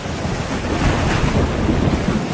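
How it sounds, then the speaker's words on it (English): Strong sea waves and gusting wind during a hurricane, with a boat moored nearby. The rushing surf and wind roar stay loud and steady throughout, and nobody speaks. "There are big waves on the sea."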